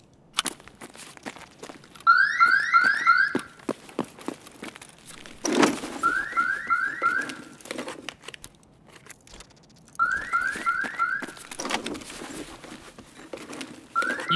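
A repeating video game alarm sounds in three separate bursts, each made of rising electronic beeps that come in quick runs. Between the bursts there are footsteps and clattering gear sounds from gameplay.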